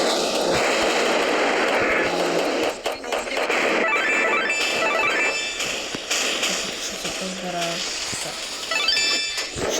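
Chaotic Roblox Skibidi Toilet game combat with bursts of rocket fire and explosions, dense crackling noise, and a voice talking over it.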